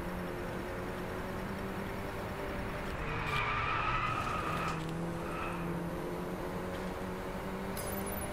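A buggy in the Driveclub racing game brakes hard, its tires squealing in a skid for a couple of seconds over a steady engine drone, fairly quiet and with no talk.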